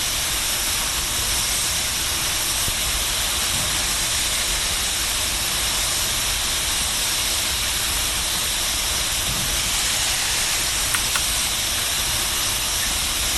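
A steam locomotive in Train Simulator Classic blows water out of its steam chest with a loud, continuous hiss of escaping steam held steady throughout, with no talking.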